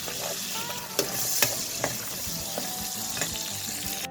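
Pasta carbonara ingredients crisp up in a hot pan with a steady, close sizzle and crackle, punctuated by a few sharp taps and clicks of a utensil against the pan.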